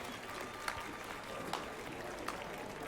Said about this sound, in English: The slow, sarcastic clap.